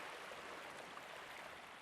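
Steady broadband wash of waves as ambient sound in an Unreal 5 video game, a continuous even rush with no breaks or voices throughout.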